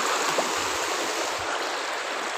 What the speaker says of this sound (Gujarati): કેવું નદી આવેલી જાય છે સરસ મજાની મિત્રો